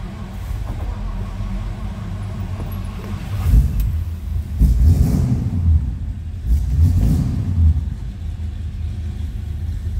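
A 1955 Ford Customline sedan's engine rumbles steadily nearby, with a few throttle blips swelling the low, throaty drone before it settles back to an even run.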